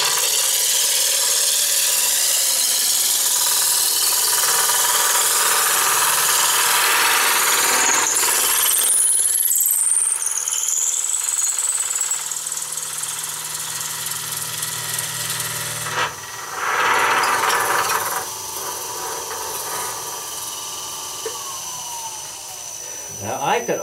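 A wood lathe turning dowels whines and rasps loudly and continuously, with the cutting tone shifting partway through and a brief burst near the middle, and a voice faintly present under the machine noise.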